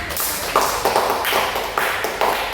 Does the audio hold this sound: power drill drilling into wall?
no